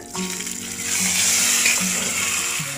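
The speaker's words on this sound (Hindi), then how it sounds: "अब हम इस तड़का को खिचड़ी में डाल देंगे" Hot cumin and chilli tempering poured from a pan into dal khichdi in a pressure cooker, giving a steady, close sizzle and hiss that builds over a few seconds, with no talking.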